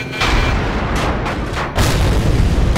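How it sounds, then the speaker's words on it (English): A Gvozdika self-propelled gun fires in the video game Battlefield Iraq, loud booming blasts with rumbling low-end roar, a couple of heavy reports close together, no talk. "I'm getting back into Gvozdika to blow up some Abrams tanks."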